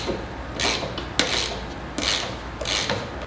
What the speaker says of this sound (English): you can at least put this on with the half inch wrench